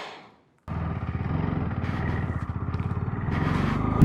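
A motorcycle ridden off-road through the Spiti Valley between Nako and Losar. After a brief fade and a gap, a loud, close engine rhythm throbs and builds steadily with some clatter, and no one speaks.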